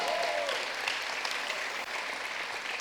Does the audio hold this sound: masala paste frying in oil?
no